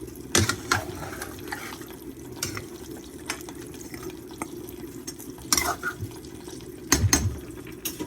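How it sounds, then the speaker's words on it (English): Seasoning being stirred into Jamaican-style oxtail in a pot, with a low simmering bubble underneath and repeated wet spoon scrapes and knocks against the pot, close and moderately loud. "Just gonna get this all mixed up into the oxtail right here."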